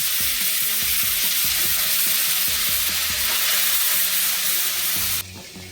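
Ridge gourd fries in a pan with coriander, giving a loud, continuous sizzle and hiss with scattered scraping knocks. The sizzle cuts off abruptly near the end.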